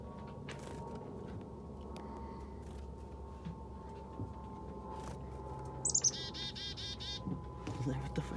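Small birds chirp in a short burst of high, rapid tweets partway through, over a steady outdoor rumble near rocks thought to hold a magnetic anomaly.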